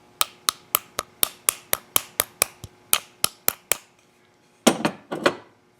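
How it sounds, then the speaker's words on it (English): A rapid series of about fifteen sharp metallic taps from a small ball peen hammer on a key in a Kawasaki ignition lock, steady rhythm, a brief pause, then a few more clustered strikes. "I'm going to take a ball peen hammer, small one, and just tap it"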